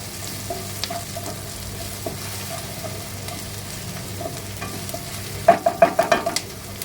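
Onion, tomato and ginger-chilli-garlic paste sizzle softly in a pan, with a steady low fry and a quick burst of spatula scrapes and taps near the end, and no voices.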